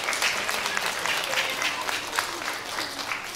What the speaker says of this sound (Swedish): Vi ger dem en applåd.